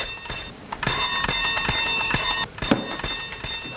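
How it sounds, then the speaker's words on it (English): A bell rings insistently in rapid repeated strikes with a bright metallic tone, continuing for several seconds before a short pause and resuming. "Oh, stop ringing that bell."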